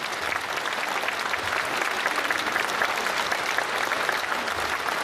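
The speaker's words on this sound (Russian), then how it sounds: "Аплодисменты, дорогие друзья." Sustained applause from a concert audience in a Kremlin hall for a Soviet-era vocal-instrumental band, a thick, even roar of many hands clapping that continues for several seconds without speech.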